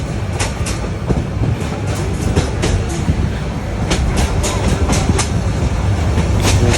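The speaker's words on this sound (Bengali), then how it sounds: "অনেক ট্রেন থামেনি, পার হয়ে যাচ্ছে।" Passenger train running on the railway between Dhaka and Brahmanbaria without stopping at a station, heard from onboard as a loud continuous roar with rhythmic wheel clacks and rattling, no speech.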